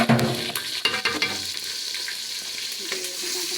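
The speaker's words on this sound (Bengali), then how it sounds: "পাতিলে এখন একটু তেল দিয়ে দেব, দিয়ে চাউলগুলা ভেজে নেব।" Rice fries in oil in a pot with onion, bay leaf and garam masala, a loud close sizzle with scraping stir strokes and light pot clatter, steady and continuous with no voices.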